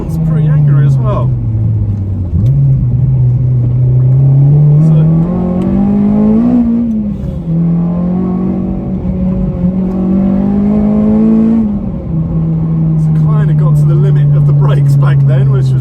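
A Honda Civic Type R fitted with a K24 engine and uprated clutch, its exhaust droning loud and close as the revs rise and fall in long sweeping pulls, with someone talking over the engine.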